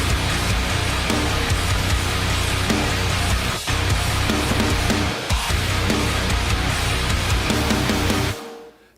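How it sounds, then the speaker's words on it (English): A full band rock mix pounds along with a trashy, cutting snare hitting steadily through loud guitars and bass, continuous and dense until the music cuts off near the end. "So, really cool snare sound too. Sounds kind of trashy, but like hits."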